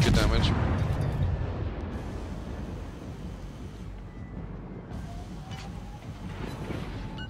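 Heavy naval guns fire high-explosive shells in World of Warships aboard the destroyer Wickes, a loud rumbling boom at the start that rolls into a long sustained low roar, with faint later reports and a voice talking over it.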